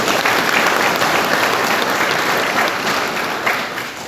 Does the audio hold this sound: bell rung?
no